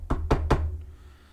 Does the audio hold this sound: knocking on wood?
yes